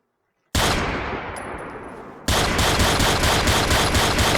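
Rapid automatic fire from an AutoMag pistol shooting .44 ammo in Fallout 4, starting abruptly after silence as a loud, dense burst of gunshots, then a second sustained volley with repeated sharp reports.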